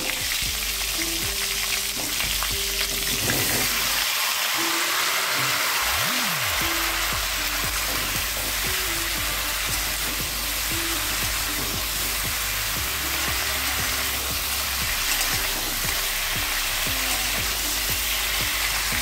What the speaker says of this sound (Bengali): এবার এই তেলের মধ্যেই আমি ফুলকপি আলুগুলোকে ভেজে নিচ্ছি।